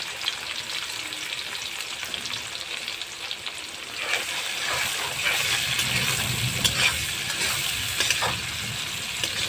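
Steady frying sizzle in a pan, a continuous crackling hiss that grows slightly louder midway, with occasional scraping clicks and no voices.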